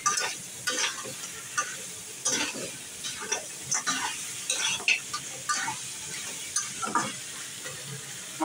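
Fish frying in a pan with onion and garlic, a dense continuous sizzle broken by frequent scraping stirs and clinks of a utensil against the pan, close and fairly loud, with no talking.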